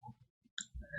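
A single computer mouse click, close and fairly faint, set among brief quiet gaps and other soft desk noises.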